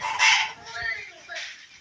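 Peruvidai country chickens, roosters and hens on a farm, cluck and squawk in a few loud bursts, fowl calling close by with brief pauses between.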